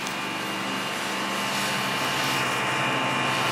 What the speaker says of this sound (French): Il est par là le drone.